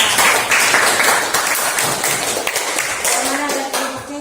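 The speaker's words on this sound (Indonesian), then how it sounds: "Tepuk tangan dulu." Students in a science classroom applaud a group presentation, with fairly loud, uneven clapping that thins out toward the end while voices and a faint tone sound beneath it.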